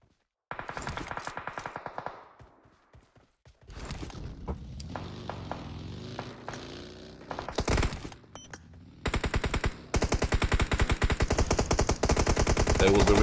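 Rapid automatic gunfire bursts and single shots from an esports shooter game tournament match, loud and dense, with some quieter scraping passages between volleys and sustained heavy fire near the end.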